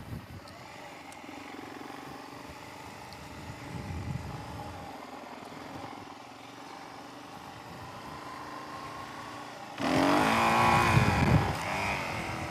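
A Suzuki DRZ 400E dirt bike on a country road hums along at moderate throttle, then near the end its engine revs hard and loud as it pulls a wheelie.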